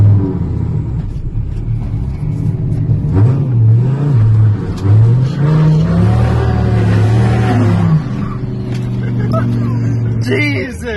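A 900hp Dodge Ram 1500 pickup truck engine roars and revs loudly while drifting, a heavy close rumble that rises and falls under excited shouting voices.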